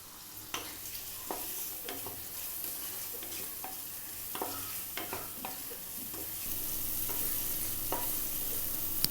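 Tomato, salt and chili powder sautéing in a pan for a cauliflower potato kurma, a faint continuous sizzle steadily building, punctuated by light scraping stirs throughout.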